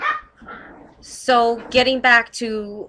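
Little puppies yip and bark in short, high bursts mixed in with a person talking nearby, the barks fairly close and brief.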